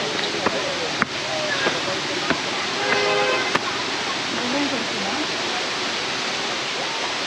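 Katika waterfall in Araku Valley roars as a dense, steady wash of falling water at about 100 meters, with faint knocks and a brief tonal chime in the middle.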